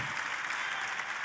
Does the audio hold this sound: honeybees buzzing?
no